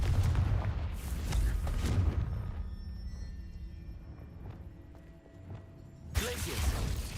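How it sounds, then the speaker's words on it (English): A Confringo fire spell explodes in the video game Hogwarts Legacy, with a loud booming blast at the start and another burst near the end, separated by a quieter, rumbling stretch. "Confringo."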